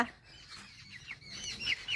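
A chicken clucks in faint, short calls that rise and fall over quiet indoor background noise.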